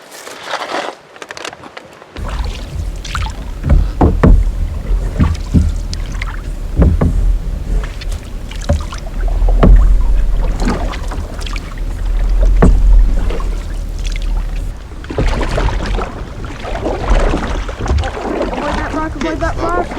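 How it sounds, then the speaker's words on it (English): Canoe paddled along a Crown Land canoe route, with repeated close paddle strokes splashing and dipping in a steady rhythm amid wind noise, while voices talk now and then. "Paddling."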